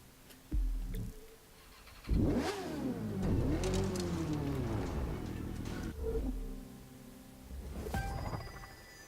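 A motorcycle engine in the racing video game The Crew 2, revving up and down in several rising and falling sweeps with short bursts between, loud and close, alone without talk.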